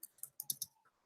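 Brief run of about five quick, faint clicks from typing on a computer keyboard, closely spaced in an uneven rhythm.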